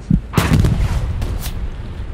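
A couple of sharp, loud gunshot bursts in quick succession with rumbling echo, gunfire in the video game Hell Let Loose.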